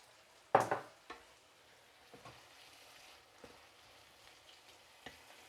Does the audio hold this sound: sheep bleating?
no